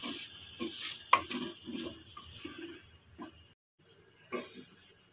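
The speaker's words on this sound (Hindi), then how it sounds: "आलू हमने क्यूब्स की शक्ल में रखे हुए हैं, इनको अच्छी तरह से भून लें" Cubed potatoes fry in a pan for aloo keema, with a steady sizzle and repeated scraping stir strokes, a sharp metallic clink near the start and a short pause before stirring resumes.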